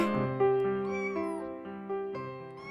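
Cartoonish cat meows from a cat-care video game, a few bright, tonal mews in quick succession over a steady harmonic game-music bed, moderately loud with no talking.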